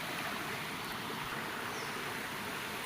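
Stream water flowing steadily in a rural creek where clothes are washed, a continuous close rushing wash with no talk.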